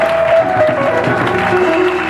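A church congregation at a prayer meeting applauds and cheers, giving a continuous, fairly loud wash of clapping and voices with a sustained tone over it.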